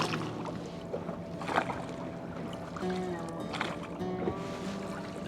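A rowing boat out on the lake at Maithon Dam: gentle water sloshing and lapping against the hull with soft splashes and a faint background hum, fairly close and steady.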